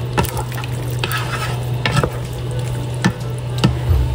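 Coconut milk simmers and sizzles in a pan as it is stirred, with a steady low bubbling hiss punctuated by repeated scraping strokes of the spoon, close and clear without talk.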